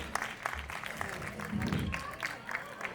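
Audience applause after a dance performance at a spiritual Gujarati gathering, moderately dense clapping heard fairly faintly with some murmuring and low crowd noise beneath.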